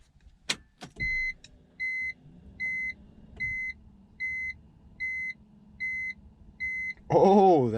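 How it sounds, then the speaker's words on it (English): On a BMW E46 as the ignition turns on, a click or two is followed by a regular series of about eight short electronic chime beeps, then a brief burst of brighter electronic sound at the end. "now I'm gonna turn the ignition on"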